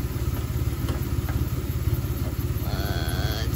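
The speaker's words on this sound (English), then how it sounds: "It's called the Astro AI tire or portable air compressor." Astro AI portable air compressor inflating a car tire, a steady rapid mechanical chugging and rattling pulse that runs continuously at close range, with a faint higher whine joining near the end.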